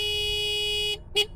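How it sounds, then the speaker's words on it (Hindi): A car horn blares in one long steady sustained honk, then cuts off and gives a short second toot, loud and close with no talk. "हॉर्न बजाना बंद कर यार"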